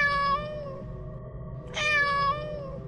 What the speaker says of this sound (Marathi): घराच्या प्रत्येक खोलीतून मला मांजराचा आवाज ऐकू येत होता.